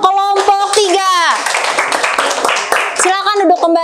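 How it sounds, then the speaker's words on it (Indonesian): Students clapping for a group in a classroom, a short burst of applause between voices, with children's high-pitched chatter and calls over and around it. "Berikan tepuk tangan untuk kelompok 3."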